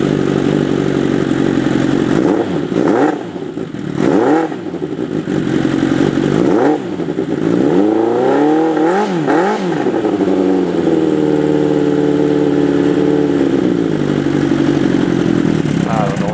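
A CB750 cafe racer motorcycle engine revs up and down several times close by, then settles into a steady, loud idle.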